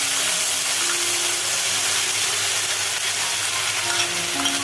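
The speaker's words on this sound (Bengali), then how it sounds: "এবার আমি বাটা যে মশলাটা রেখেছিলাম যে গ্রেভি বানাতে সেই মশলাটা দিয়ে দিলাম" Ground spice paste hits hot oil with bay leaves and garam masala for a fish roe and lentil gravy, producing a loud, dense, steady hiss and sizzle that holds evenly throughout, with no voices.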